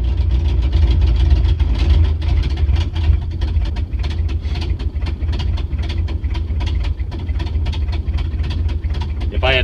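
A 1953 Studebaker engine, first start after sitting, runs with a lumpy, uneven idle: a loud, continuous low rumble broken by irregular ticking pulses, heard close up throughout.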